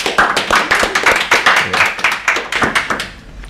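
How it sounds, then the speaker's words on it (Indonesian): An audience claps hands in a quick, steady, near-rhythmic pattern, loud and close, fading slightly toward the end. "Tepuk tangan"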